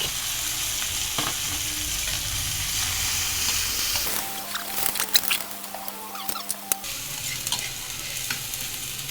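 Tomatoes sizzle in a hot pan while a utensil scrapes and stirs them, a steady close frying hiss broken by clattering stirring strokes partway through.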